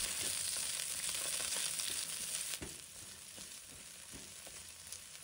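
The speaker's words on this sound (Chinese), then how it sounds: "炒出香味以后，再加入葱姜蒜" Scallion, ginger and garlic are stir-fried in hot oil in a wok with Sichuan peppercorns and cinnamon, a steady close sizzle broken by scraping stir strokes, briefly loudest before easing to a quieter fry.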